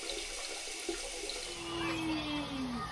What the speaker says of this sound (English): turn on the water pressure, and you can see that water coming out